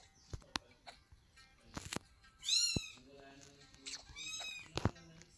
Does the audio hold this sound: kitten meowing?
yes